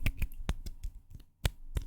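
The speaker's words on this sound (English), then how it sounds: "my favorite ASMR trigger is probably hand sounds." ASMR hand and fingertip sounds: a quick series of close, crisp taps, rubs and clicks from hands and fingertips, arriving in irregular bursts with a short pause near the middle, all without talk.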